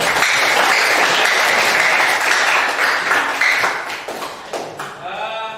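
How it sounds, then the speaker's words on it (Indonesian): Classroom applause for a classmate: a dense, loud burst of many hands clapping together, holding steady for about four seconds before thinning into scattered claps and a few voices at the end. "Oke, beri tepuk tangan untuk temanmu."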